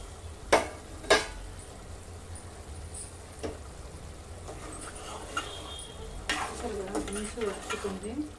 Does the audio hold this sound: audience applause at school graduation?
no